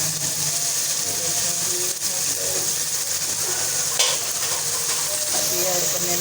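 Ginger garlic paste masala fries in a pan for aloo gosht, a dense steady sizzle throughout with occasional stirring clinks and scrapes, close and fairly loud.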